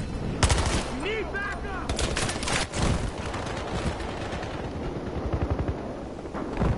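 Gunfire in the Battlefield Hardline video game, with rapid bursts of automatic shots and single loud cracks scattered across the clip, mixed with players talking over voice chat.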